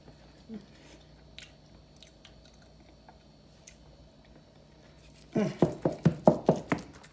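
Chewing while tasting turkey stuffing made with apple and onions, a close, rhythmic series of wet chomps after a few quiet seconds of faint kitchen sounds.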